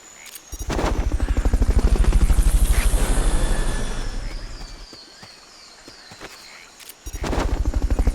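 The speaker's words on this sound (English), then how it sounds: "Fulton recovery subject confirmed onboard helicopter." Loud rotor thumping of a helicopter in Metal Gear Solid Peace Walker HD, beginning abruptly, swelling and fading through the middle, then cutting back in strongly near the end with clattery bursts mixed in.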